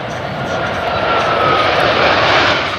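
A fixed-wing airplane lands at Minneapolis–Saint Paul International Airport, its engines producing a loud, sustained roar that swells in the middle and then eases slightly, with faint voices beneath.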